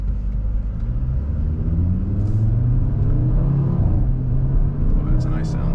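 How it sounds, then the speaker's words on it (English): An Audi RS3 8Y with its five-cylinder turbo engine and mid-pipes rumbles and revs loudly from close by, with turbo flutter in the mix and people talking over it. "That's some nice turbo flutter though."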